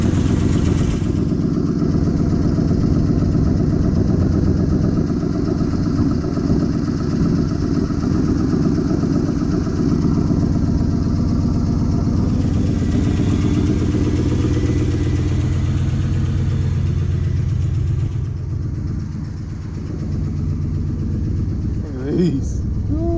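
A 1972 Jeep Wagoneer engine runs steadily at idle, a loud continuous low rumble with even clatter that holds without missing, dipping slightly near the end.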